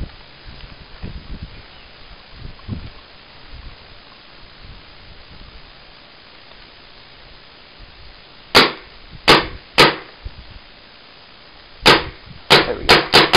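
An Etek 3 LT paintball gun fires sharp, close pops: three shots, then a pause, then a quicker burst of four, all after several seconds of quiet outdoor rustling.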